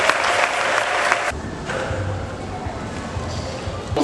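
Wedding guests applaud during a civil and religious wedding ceremony, a dense crowd clapping that starts loud, then thins slightly and carries on steadily with low murmuring underneath.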